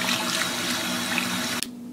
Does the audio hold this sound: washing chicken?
yes